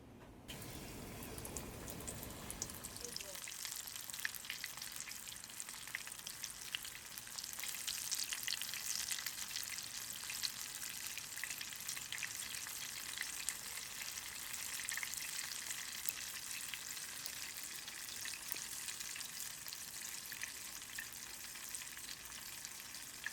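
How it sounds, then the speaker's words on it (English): Breaded squirrel pieces fry in a mix of peanut oil and rendered lard at about 375 degrees, giving a steady, dense bubbling sizzle close by that jumps in as the food goes in and holds fairly evenly with no talking. "Like to fry a mix of peanut oil and rendered lard"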